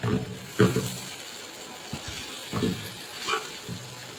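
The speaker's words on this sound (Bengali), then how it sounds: "আমি আরও মুচমুচে হওয়ার জন্য কিছুক্ষণ রান্না করব।" Potatoes fry in oil until crisp for a dish with pangas fish roe; a soft, low sizzle runs under several louder stirring scrapes and clatters in the pan.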